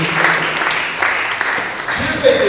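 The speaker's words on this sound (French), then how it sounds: "Acclame pour la gloire de Jésus." A church congregation claps in loud, dense applause that fills the room, with voices mixed in throughout and a preacher's voice rising near the end.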